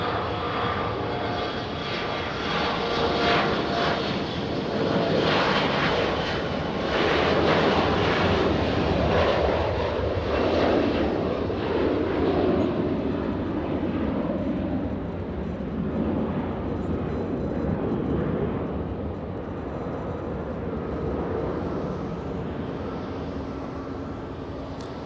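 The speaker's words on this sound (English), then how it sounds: "And the little E175 clearing the trees." An Embraer E175 airliner takes off at LAX, its jet engines producing a sustained, loud roar that swells in the middle and then gradually fades as it climbs away, heard from a distance with no talk.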